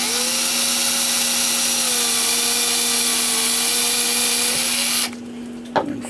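A power tool spins a 3.5-inch reamer through a bushing in a Seth Thomas mantel clock's number 2 wheel, a loud, steady high whine that drops away at the end, followed by a soft click.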